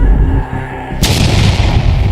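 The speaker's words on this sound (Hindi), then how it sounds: "तभी अचानक से बम की लड़ी पर आग लग जाती है।" A cartoon sound effect of a string of Diwali firecrackers going off, a sudden loud bang that breaks into a dense, crackling burst, close and harsh, after a low rumbling lead-in.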